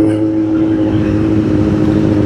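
A Kawasaki Z800 motorcycle engine runs close by, a loud, steady idle with a low rumble and even throb throughout, with no clear rev rise.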